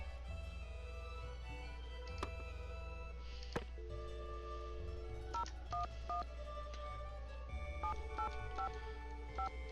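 Series of short electronic keypad tones dialing a number, followed by a repeating ring tone heard faintly over a steady low hum.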